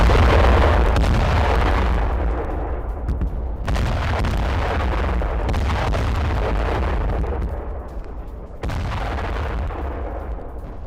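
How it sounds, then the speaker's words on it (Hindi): Heavy booming blasts and rumbling from Israeli bombing in Beirut, with loud broadband bursts at roughly two-second intervals over a continuous low roar, no voices present. "और बेरूत में इजरायल का यह बहुत बड़ा हमला था।"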